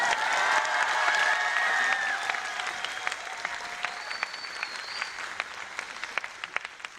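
An audience at a Christian youth camp lecture claps in a dense burst of applause that fades into scattered, thinning claps over several seconds.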